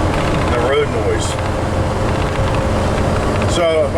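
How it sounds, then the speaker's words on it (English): Engine drone and tyre-on-road rumble from inside a vehicle on a winter road trip, a loud, steady, dense roar filling the whole stretch, with faint voice fragments under it. "you can really hear the engine and everything on this thing, and the road noise"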